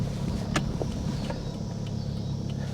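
A 1985 Honda Accord with 62K miles, long left sitting, runs as it is driven on the road, its engine a steady low rumble with faint clicks and rattles over the top.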